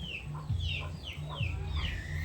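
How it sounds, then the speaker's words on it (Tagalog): Chickens clucking nearby in short repeated calls over a steady low background hum. "At may manok dito."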